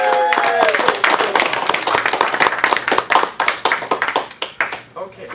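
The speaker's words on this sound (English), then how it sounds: "let's have a warm round of applause for our speaker tonight, Sonja Cassandra Perdue." Warm audience applause for a speaker at an evening event on Black America, loud and dense clapping that thins into scattered claps toward the end, with a voice briefly audible at the start.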